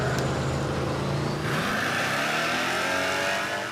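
A drag racing car engine roaring loudly on a test run, revving hard with a rising pitch sweep midway, then holding a strained high note close by.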